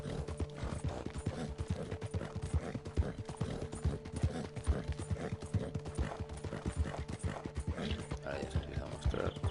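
Horse hooves trot in Red Dead Online, a quick rhythmic clip-clop that keeps a steady pace over a low hum of game ambience, with a voice speaking now and then over it.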